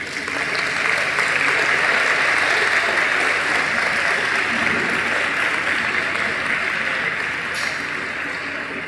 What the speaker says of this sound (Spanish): queremos reconocerlos con un fuerte aplauso